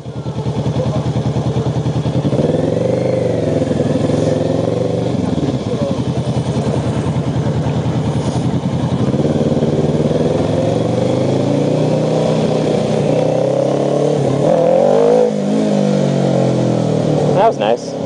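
A motorcycle engine revving and droning steadily up close during a small wheelie, its pitch rising and falling through the ride, with speech over it.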